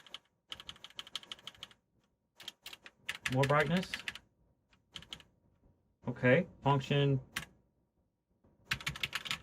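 Clicky keystrokes on an inexpensive GameSir mechanical keyboard fitted with O-rings come in quick bursts and pauses, close and fairly loud, with stretches of speech breaking in between.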